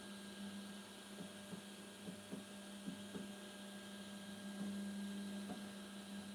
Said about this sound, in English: Some sort of calibration here for extrusion.